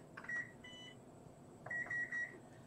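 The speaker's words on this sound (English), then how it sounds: "All right, I'm gonna set a timer." A timer being set gives a few short, close electronic beeps, one early pair, then a quick run of three tones near the end, each clean and clipped, with no talking.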